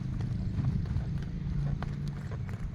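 A horse canters during a riding lesson, its hooves thudding in a steady rhythmic clip-clop over a low rumble, with no voices.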